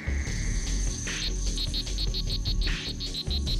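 Male strawberry frog calling in a Central or South American rainforest, a series of short, regular high chirps in a rhythmic run, heard over a dense bed of insect and night-forest sound.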